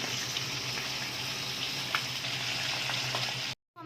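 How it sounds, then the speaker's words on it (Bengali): Pomfret fish fry one by one in hot oil in a kadai (wok), a close, continuous crackling sizzle with small pops throughout, cut off abruptly just before the end. "এবার আমি মাছগুলো ভেজে নেব এক এক করে।"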